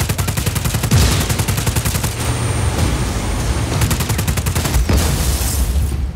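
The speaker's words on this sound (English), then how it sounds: "And now I guess I shoot it in the guts." Rapid automatic gunfire raking a generator in the video game Just Cause 4, dense bursts of shots rattling loud and close throughout with brief gaps, over a steady low game rumble.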